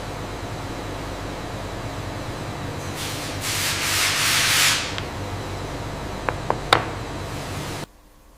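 A turtle shell being polished gives a soft rubbing hiss that swells for a couple of seconds over steady workshop noise, followed by a few short taps.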